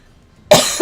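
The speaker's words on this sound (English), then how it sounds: "sorry for the coughing" A single sharp cough, loud and close, followed by a smaller second burst, after near silence.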